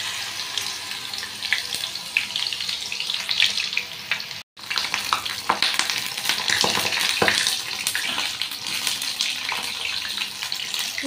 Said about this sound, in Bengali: একটু লালচে লালচে করে ভেজে নেব।